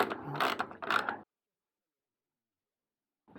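A ratchet clicks in quick bursts while loosening the rear chain guard bolt on a KTM Duke motorcycle, two short close ratcheting spells followed by silence and a brief final click.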